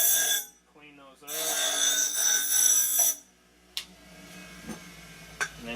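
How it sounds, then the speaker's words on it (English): A DeWalt 6-inch bench grinder runs loud and close as a notched metal tube is ground clean, with a steady high whine that cuts off, followed by faint clanks and a voice speaking. "just go over to this here Dewalt. This is a 6-inch bench grinder, and we just"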